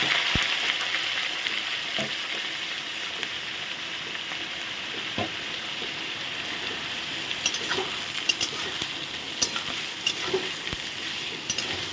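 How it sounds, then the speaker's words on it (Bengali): Cashews, beans and capsicum frying together in hot oil, a continuous hissing sizzle with occasional metal clinks and spatula taps against the pan, steady and close, with no one talking. "তেলে আমি এখন ভেজে নেব কাজু বিমস আর হলো ক্যাপসিকাম"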